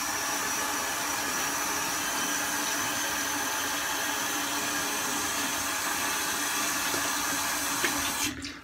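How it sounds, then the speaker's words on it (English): Tap water runs steadily from a faucet to warm up for shaving, a continuous broadband wash of flow that holds for several seconds before cutting off at the end. "I'm going to warm up my water here."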